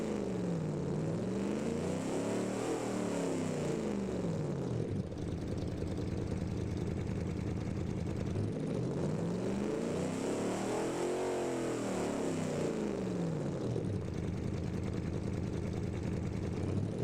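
Car engine from the game Automation revs up and down in two long sweeping cycles, rising and falling steadily, loud and continuous with no talk over it.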